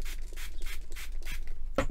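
Soft wet and dry sanding pad rubbed on a small pendant, a rhythmic scratchy swishing in about five quick strokes, quiet and close, ending with a small knock.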